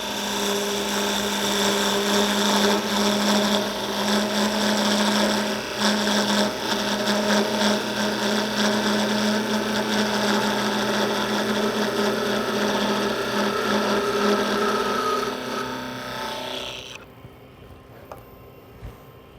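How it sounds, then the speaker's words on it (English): Wood lathe spinning a tulip blank while a parting tool cuts down the end of the flower, a steady loud whirring and scraping hum that runs continuously before stopping abruptly near the end. "So now I use the parting tool to part down the end of the flower."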